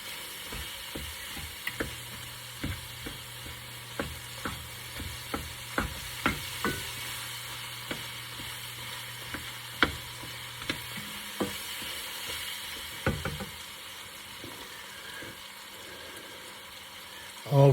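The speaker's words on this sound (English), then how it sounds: "And I'm going to stir that in. Let that kind of brown off just a little bit, get the flour taste out of it" Flour browns with sweet Italian sausage in a pan, a quiet sizzle with regular scraping stir strokes that thin out near the end, with no clear talking.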